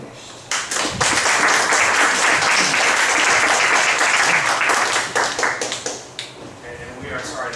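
Crowd applause at the end of a talk at a humanist conference, loud and sustained for several seconds before thinning out into scattered claps, with voices speaking over the fading tail.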